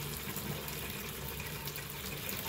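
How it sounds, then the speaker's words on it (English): Pressurized water rushing steadily out of an opened tap as a 12V DC backup water pump system loses pressure, a constant broadband hiss with no talking. "All the water with pressure is gonna run out."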